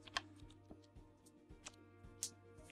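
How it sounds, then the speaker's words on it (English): Sparse keystrokes on a computer keyboard, a few soft clicks spaced irregularly over a steady low hum, quiet and close with no one talking. "we have to type the thing that we always type"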